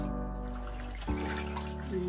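Running water from a tap as a fabric chest binder is rinsed, a steady close splashing stream with a slight shift in tone midway, no talking.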